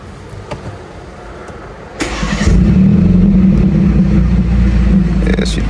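A BMW G20 330i fitted with a full exhaust cranks and fires up about two seconds in, then settles into a loud, deep, steady idle rumble close to the microphone, with faint background noise before the start.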